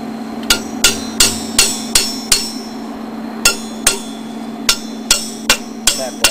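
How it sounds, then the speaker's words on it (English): A hammer taps metal parts of a dual permanent magnet rotor for a wind turbine, a dozen crisp ringing knocks in two uneven bursts, close and clear over a steady low hum. "So I'm going to tap this with a hammer."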